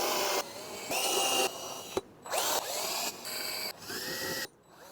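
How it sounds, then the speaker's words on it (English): A power drill pre-drilling holes whirs in a series of short bursts, each spinning up with a rising whine and stopping, separated by brief quiet gaps. "I'm just going to go through and pre-drill them all at once"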